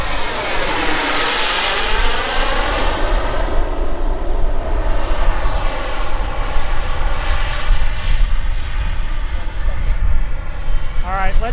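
A turbine-powered Sebart model jet roars overhead in continuous flight, its whine sweeping and shifting in pitch as it passes and turns, loud and close, with a voice speaking over it.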